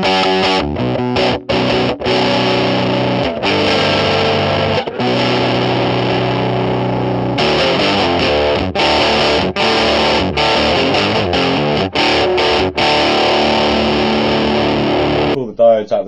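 Electric guitar played through a modded RAT distortion pedal with its diodes removed, the distortion set low as a clean booster. Chords and riffs ring out loud and continuous, with brief stops between phrases.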